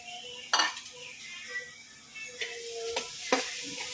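Grated carrot palya with coriander and grated coconut stirred in a pan, quiet frying under sharp metal spoon clinks and scrapes against the vessel, a few distinct knocks near the start and end.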